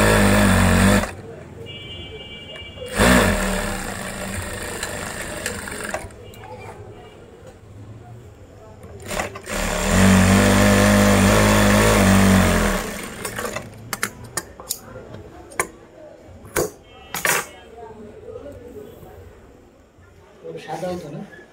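A sewing machine stitches denim jeans in loud, sustained mechanical whirring runs broken by pauses and clicks. A person talks throughout.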